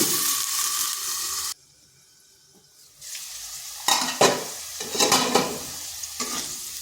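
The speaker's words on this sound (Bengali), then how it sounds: "এরপর আলুটাকে ঢাকা দিয়ে একটু ভেজে নিচ্ছি।" Long-cut potato strips fry in oil in a pan, a loud hiss that breaks off briefly, then returns with scraping stirs and sputtering bursts, no voices.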